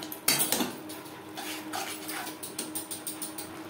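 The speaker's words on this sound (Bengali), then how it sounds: "মশলা কষাবো মিডিয়াম ফ্লেমে" Masala with ginger paste and green chilli paste stirred and fried in a pan over medium flame for restaurant-style mutton curry, a spatula scraping and clinking against the metal in repeated strokes over a steady soft sizzle, with no voice present.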